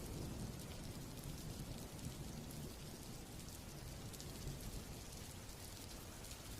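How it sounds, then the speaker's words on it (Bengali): Steady heavy rain pours down in a cartoon scene, a dense continuous hiss with a low rumble underneath, constant and enveloping throughout with no voices. "ভাই রফিক, এই বৃষ্টি আর ভালো লাগছে না রে ভাই।"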